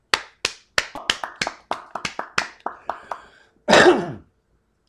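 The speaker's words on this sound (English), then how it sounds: "We usually applaud the score when I announce it also" A handful of separate hand claps at a poetry slam after scores are announced, a dozen or so sharp claps spaced unevenly before a brief louder burst of rustling noise near the end.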